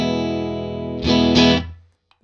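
A Nystrum Jag-style electric guitar played through its neck pickup with distortion: a sustained ringing chord, then a brighter strummed burst that fades out, loud and alone.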